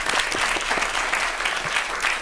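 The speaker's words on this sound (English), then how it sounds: "Give them a round of applause." Audience applause at a Climate Week fireside chat, a dense, steady wash of many hands clapping at close range, loud and sustained throughout with no voice over it.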